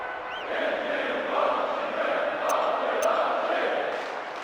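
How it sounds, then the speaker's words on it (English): Stadium crowd in the PES 10 football game, a steady roar of a capacity crowd backing their team, sustained and fairly loud with swelling chants and a couple of faint whistles. "The capacity crowd getting behind their team."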